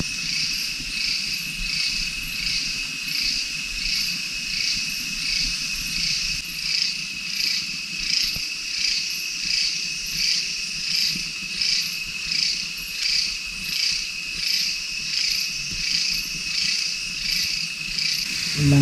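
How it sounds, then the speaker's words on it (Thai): Steady, dense insect chirping pulses on and on at a high pitch, a loud continuous winter-night chorus in a forest camp beneath a giant rock, with faint low rumble beneath. "มีเสียง กระจันหรือว่าแมลงครับ"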